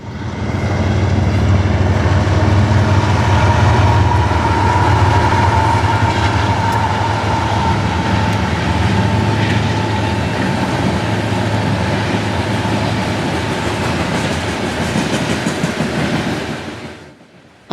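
Eastbound freight train 6E4, led by CP and KC locomotives, rumbles past on the Cleveland line, a loud, close, sustained roar of wheels and cars with steady clickety-clack that fades out abruptly at the end.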